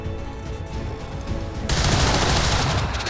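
A skirmisher in a video game fires a gun: after a quieter lead-in, a loud, sharp burst of gunfire hits and rings out, staying heavy until the end.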